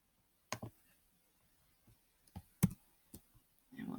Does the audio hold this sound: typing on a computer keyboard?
yes